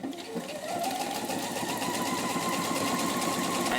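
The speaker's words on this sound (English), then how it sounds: "I'm going to let it sew like 3 motifs, and then we are going to take a look." A Pfaff 720 sewing machine runs continuously as it sews floating decorative stitches, a loud, close mechanical whir that starts up and holds steady.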